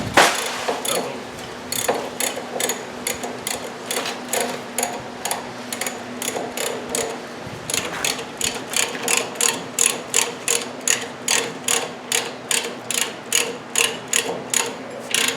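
A ratchet wrench clicks in steady repeated bursts while bolts are tightened on a 1960s VW buggy engine during install, close and fairly loud, with a short pause partway through and no talking.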